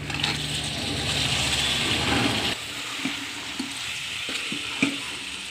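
Raw nethallu, small fish, fry in a pan with a loud hiss for the first half, then the sizzle drops to a softer crackle with scattered stirring taps, close and without talk.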